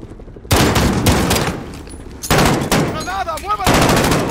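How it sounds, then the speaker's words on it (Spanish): Gunfire in Call of Duty Modern Warfare (2019) campaign, sharp loud bursts of shots in several clusters separated by brief lulls, with faint in-game shouting between volleys. "Vamos a usar la pistolita."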